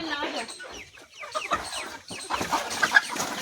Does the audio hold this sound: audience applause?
no